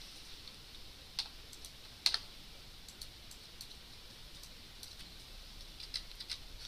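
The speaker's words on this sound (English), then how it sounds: "notice that as I'm typing in," Keystrokes on a computer keyboard: scattered, quiet clicks with an occasional sharper tap, heard alone against a faint room hiss.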